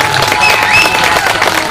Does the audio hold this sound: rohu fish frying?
no